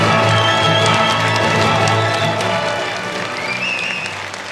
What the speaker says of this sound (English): Let's all welcome him with a loud round of applause.